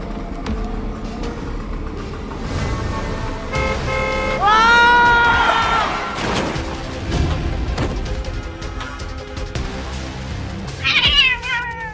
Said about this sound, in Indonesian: Kok bisa ada kucing?